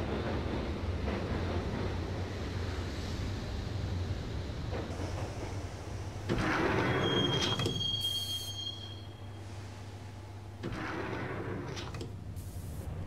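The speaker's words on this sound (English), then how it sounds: "the train doors had already shut behind me, and I was in for the ride" A subway train rolls through the tunnels in the video game Max Payne, a steady heavy rumble of wheels on rails with rattling carriages, swells of clatter and a brief high metallic squeal, continuous and close.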